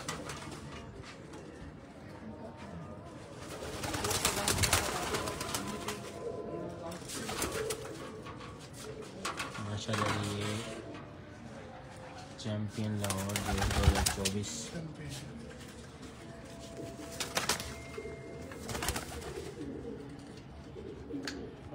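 Pigeons coo in soft repeated bursts amid background noise on a Lahore rooftop, with several rounds of low throaty calls spread across the recording.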